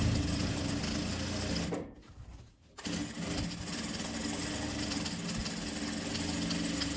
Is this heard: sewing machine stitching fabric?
yes